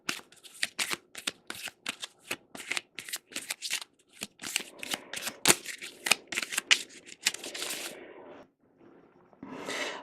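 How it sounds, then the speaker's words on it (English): A deck of game cards gets a thorough shuffle, with rapid riffling bursts repeating in quick succession, close and crisp, followed by a few slower final riffles. "you're going to give that a really, really good shuffle"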